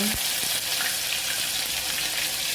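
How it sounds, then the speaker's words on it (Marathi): Garlic hitting hot oil in a tempering pan of mustard seeds and cumin, a steady close sizzle and crackle running throughout with a brief stir at the start. "लगेच लसूण टाकून घ्यायचं."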